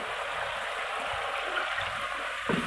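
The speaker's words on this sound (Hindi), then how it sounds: "अब हम इसमें पानी डालेंगे।" Water is poured into a pot of fried chicken curry, making a steady, close hiss of flowing liquid that runs unbroken, with a small splash near the end and no talk.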